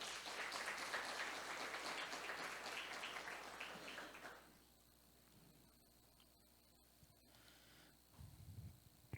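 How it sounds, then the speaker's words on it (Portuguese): A church congregation applauding during a service, a dense burst of clapping that fades out after about four seconds into quiet room tone, with a brief low rumble near the end. "Você pode aplaudir o Senhor bem forte."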